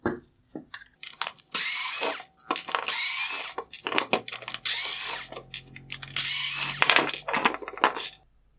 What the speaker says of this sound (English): The lens mount is connected to the bowl with 4 T20 screws.